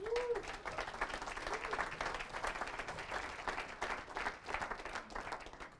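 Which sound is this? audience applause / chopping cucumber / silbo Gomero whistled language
audience applause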